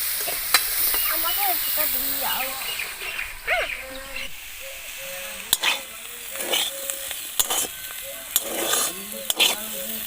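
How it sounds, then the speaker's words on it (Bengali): Bitter gourd and potato with salt and green chillies fry on a low flame in a covered pan. There is a steady close sizzle with sharp clinks of utensils, faint bird calls and some background voices. "এরপরে আমি ঢাকা দিয়ে দিয়ে ভালো করে উচ্ছে আর আলু ভেজে নেব।"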